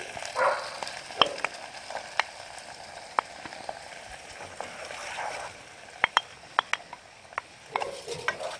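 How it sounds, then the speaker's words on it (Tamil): Ginger paste and tomato sauce sautéing in a pan make a soft, even sizzle broken by frequent sharp clicks and taps of a utensil against the pan, fairly quiet and without talk. "இந்த தக்காளி இந்த சாஸ் இதை ஊற்றி இது வதக்கணும்"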